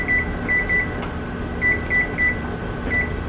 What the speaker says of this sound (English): Put that timer on.